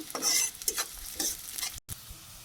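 Onions frying and being stirred in a pan for a beef curry, with a steady crackling sizzle broken by scraping stirs, close up, and no talk.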